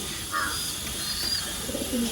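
Pigeons coo softly inside a loft, a low murmuring call rising now and then over a steady background hiss, with faint chirps mixed in.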